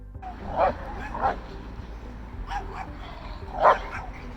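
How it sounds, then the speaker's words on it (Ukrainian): A German shepherd lets out several sharp barks at other dogs, spaced a second or so apart, moderately close, with some whimpering yelps in between. "Це була німецька вівчарка, її звали Руся."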